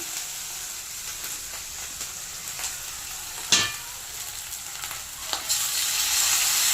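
Tomatoes frying in a hot pan, a soft continuous hiss with a sharp stir or scrape midway and a brighter sizzle swelling near the end, close but fairly quiet, with no voices.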